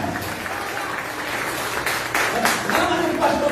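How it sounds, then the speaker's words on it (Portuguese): A church congregation bursts into applause, broadband clapping that swells and grows louder toward the end, mixed with voices and talk. "Aplauda Jesus"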